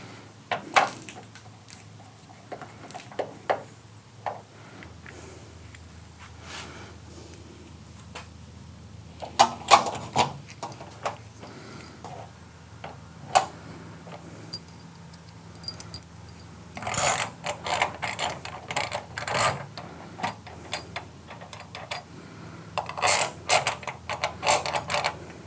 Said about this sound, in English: Remember to hand tighten all screws to prevent damage to any hardware.